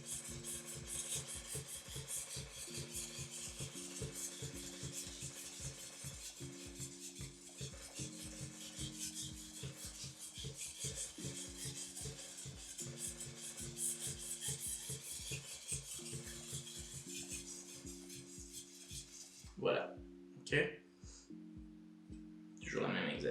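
Steady rhythmic rasping of a knife blade stroked back and forth on a Japanese water stone, close and continuous with a low musical bed underneath, ending in a few louder scrapes and brief speech.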